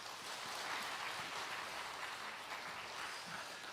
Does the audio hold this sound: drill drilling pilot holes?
no